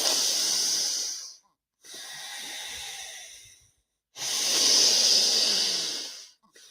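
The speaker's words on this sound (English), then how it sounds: "Breathing through the nose." Three long, loud breaths drawn through the nose during a breathwork exercise, each a close, airy hiss lasting one to two seconds, with brief silent pauses in between.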